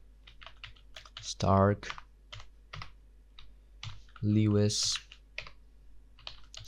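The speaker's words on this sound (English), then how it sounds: "then start typing in names" Names are typed into an Excel spreadsheet on a computer keyboard, with quick irregular key clicks up close while a person speaks intermittently over the typing.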